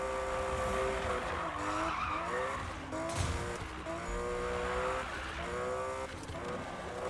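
Car drifting in the Need for Speed 2015 video game, repeated tire squeals sweeping up and down over a revving engine, loud and continuous with brief skids.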